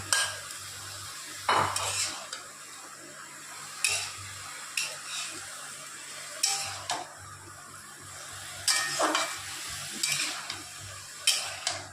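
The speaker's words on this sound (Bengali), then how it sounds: "দেখুন মশলাটাকে দিয়ে আমি সুন্দর করে এটাকে কষিয়ে নিই" Ginger, chilli and cumin pastes are stirred through a pan with a utensil, giving repeated scrapes and clinks against the metal at irregular intervals over a soft, low sizzle, close by and with no talking.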